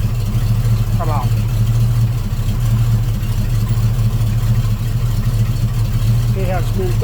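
Volvo Penta 454ci marine engine fitted with an HEI distributor running with a steady, loud low rumble and little change in pitch, while a person talks over it.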